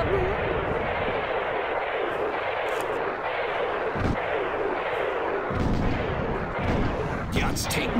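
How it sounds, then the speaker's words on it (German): Aztec troops attack a besieged town in the game Black & White 2, with continuous heavy gunfire and battle din that roar steadily throughout, punctuated by sharper bursts toward the end. "Die Azteken haben die Mauer eingenommen. Sie schießen auf unsere Untertanen."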